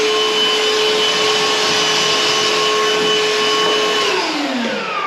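A new vacuum with a blower built into the side runs steadily and loudly in a barn conversion, giving a constant high whine that starts to wind down and drop in pitch near the end.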